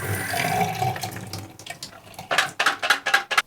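Water from a bathroom tap runs as a shampooer's brush attachments are rinsed under it. A steady stream at first gives way to bursts of splashing and spattering that come in quick surges, nearby, and nobody talks.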